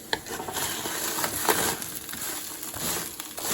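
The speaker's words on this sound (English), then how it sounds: "you can still hear some of that sizzle." Continuous crackling sizzle of potatoes frying in a pan, with occasional scrapes and pops, close and fairly loud throughout.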